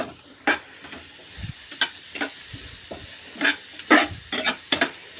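Sliced onions with salt sauté in a pan for an egg roast, with a soft steady sizzle and repeated scraping stirs of a spoon against the pan at an irregular pace, close up and alone.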